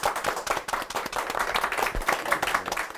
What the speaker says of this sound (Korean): 오늘 소개하신 두 분의 MC분 박수 부탁드리겠습니다